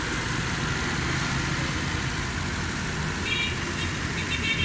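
A Suzuki Cultus EFI car engine idles in neutral, close up, with a steady, even hum that holds unchanged throughout.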